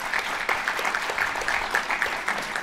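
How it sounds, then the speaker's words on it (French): Steady applause from a conference audience, many hands clapping continuously at moderate volume with no talking over it. "On peut applaudir Valérie."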